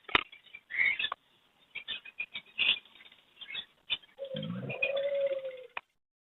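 Pigeons and doves at a Sunday bird market, with soft repeated cooing and calls that come in short bursts, ending in a longer sustained coo.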